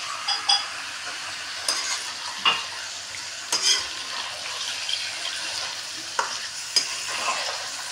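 Beef heart with onions and garlic-ginger paste is stirred in an open pot, steady sizzling under sharp scrapes and clinks of a spoon against the metal, close and moderately quiet, with no voices.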